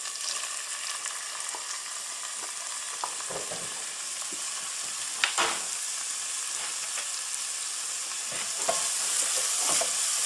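Leek and mushrooms sauté in a pan with a constant bright sizzle. Scattered knocks and scrapes of stirring come through, with a sharper clatter midway.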